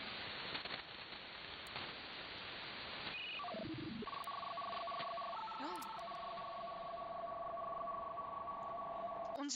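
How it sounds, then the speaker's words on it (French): Electronic phone ring resembling the landline telephones in The Sims 2, a steady synthetic tone pattern that holds for several seconds over a constant background hiss. "On dirait le bruit des téléphones qui sonnent dans les Sims 2."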